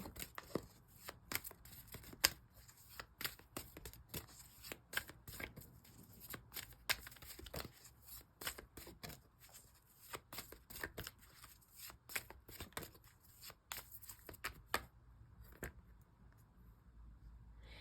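Tarot cards being shuffled by hand, a long run of quick, crisp riffling and tapping clicks in an irregular rhythm, soft and close, with no speech.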